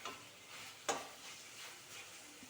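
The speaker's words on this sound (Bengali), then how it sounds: "এটাকে কষে নিতে হবে 7 থেকে 8 মিনিট মতো, যতক্ষণ না পর্যন্ত কিমাটা খুব ভালোভাবে কষে আসছে" Minced meat stir-fried in oil in a pan for a cabbage dish gives a faint, steady sizzle, with one brief scraping stir near the start.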